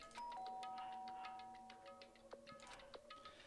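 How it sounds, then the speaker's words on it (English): A chiming doorbell rings in the video game Danganronpa: Trigger Happy Havoc, with sustained electronic tones over light ticking clicks, clear and unaccompanied by voices. "Byakuya stood in front of her door, not making a sound, and pressed the doorbell."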